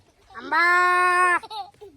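A voice imitates a cow mooing, producing one sustained, loud, tonal call that slides slightly in pitch for about a second, followed by a short falling tail and quiet breaths.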